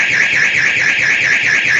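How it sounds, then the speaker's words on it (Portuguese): A car-style alarm wails continuously at a strong level, its oscillating siren tone rising and falling in a steady rapid cycle throughout, with no talk over it. "Alguém apertou o botão do alarme."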